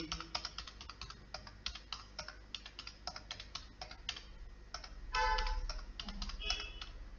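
Computer keyboard typing as values are entered for a JavaScript array exercise, with rapid close key taps in uneven bursts and a brief louder shuffle near the end.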